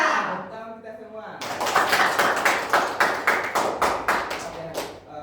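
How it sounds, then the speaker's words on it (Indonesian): A classroom of students gives rhythmic group applause in unison, steady patterned claps repeating loudly after a brief voice at the start. "Tepuk kita semua."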